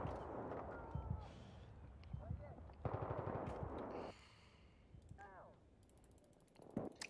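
A PP-2000 submachine gun fires in Battlefield 3 in short mechanical bursts at low volume, with clicking weapon handling between shots and brief player voices.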